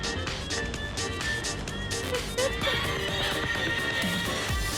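A horse in the Free Fire video game whinnies loudly and clearly while being ridden, with a light clip-clop of hooves and background game sounds around it.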